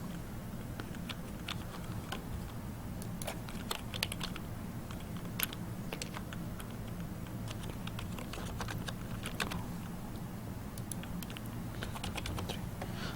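Values are typed into a registration form on a computer keyboard, with quick, irregular key clicks running steadily throughout over a low background hum.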